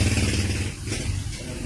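A repaired appliance's motor runs continuously with a loud low hum and rattly buzz, steady and close throughout with no pauses.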